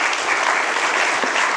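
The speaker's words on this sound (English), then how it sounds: "So give our sponsors a round of applause" Loud, dense applause from a conference audience at the opening ceremony of an annual general meeting, many hands clapping together without a break for the whole short stretch.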